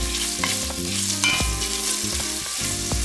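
Bacon sizzles and crackles as its fat renders in a pot for chowder, a loud, close, steady frying hiss with the scrape of stirring now and then, and no voices.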